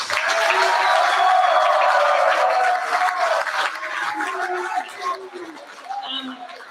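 Students at a New Zealand college sports awards applaud and cheer as a group, with dense clapping and raised voices that stay loud for about three seconds and then thin out gradually.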